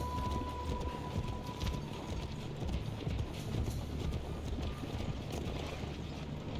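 Horse hooves clip-clopping at a steady gallop across a continuous bed of game ambience in Assassin's Creed Brotherhood, rhythmic and fairly close, with no one speaking.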